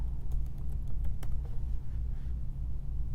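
Quiet typing on a computer keyboard, a brief patter of light key clicks over a low steady hum.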